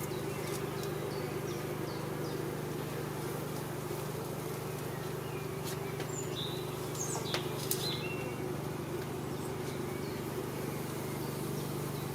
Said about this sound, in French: Là on voit une abeille avec du pollen jaune aux pattes.